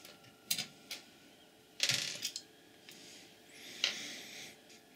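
Small metallic clicks and ratcheting as a screwdriver backs out corner screws from a Synology DS218j NAS case, a few sparse close, quiet bursts with faint clinks between.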